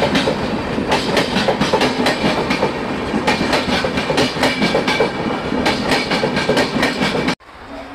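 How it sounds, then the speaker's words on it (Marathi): A passenger train departing Dadar station for Sainagar Shirdi rolls loudly and close, its wheels clacking in regular bursts over rail joints amid a continuous rumble. The sound cuts away abruptly near the end. "निघाली आहे ट्रेन आता दादरवरून ऑन टाईम डिपार्चर आहे"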